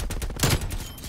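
A machine gun fires in Call of Duty, a short, dense burst of rapid shots that is loud and close, with a stronger blast in the middle.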